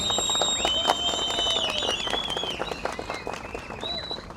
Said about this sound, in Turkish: Bir alkış.